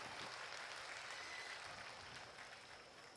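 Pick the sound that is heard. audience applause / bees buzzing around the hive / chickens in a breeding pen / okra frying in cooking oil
audience applause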